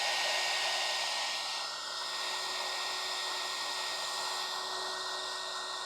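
A heat gun blows hot air to dry a shifter overlay on a 2021 or later Ford Bronco, giving a loud, steady whirring roar with a high whine that runs without a break and without any talk.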